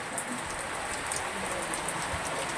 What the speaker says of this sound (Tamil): இப்போ மழை பெய்யுது. இப்போ காமிக்கிறோம் பாருங்கள்.